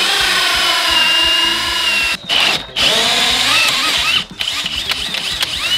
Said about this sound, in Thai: ลองกับงานโฮซอนะครับก็เป็นสว่านนะครับแล้วก็เจาะไม้นะครับ